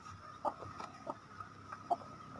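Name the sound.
chicks clucking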